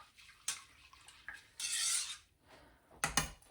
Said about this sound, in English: I'm going to stir a whole lot